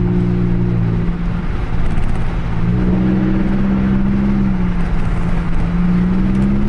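A Chevy Impala LT with a 3.9L V6 and straight-pipe exhaust accelerates, a loud, steady droning exhaust note heard from inside the car that climbs in pitch as it speeds up.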